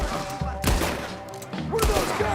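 Gunfire in the Western game Red Dead Redemption 2: two heavy, booming shots about a second apart echo over a noisy outdoor background.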